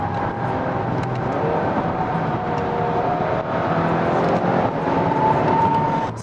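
A 290-horsepower Hyundai Sonata N Line drives in Sport Plus mode, its engine producing a steady loud hum with rising tonal drone and road noise throughout, no talk.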